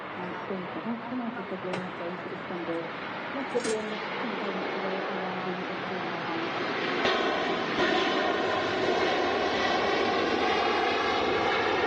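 An Emirates Airbus A380 airliner on base leg approach to Manchester Airport rumbles steadily, a broad continuous engine roar that slowly grows louder, with a person talking over it.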